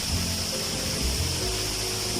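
Pa Wai waterfall, Thailand's red waterfall, rushes in a constant broad wash of falling water, steady and fairly close, with low rumbling surges underneath and no voices.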